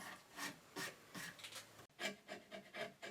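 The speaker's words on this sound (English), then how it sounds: "put the block in the vise and cut across to make my initial saw cut" A hand saw cuts across a wooden block held in a vise, giving close, quiet, rhythmic rasping strokes, about eight back-and-forth passes.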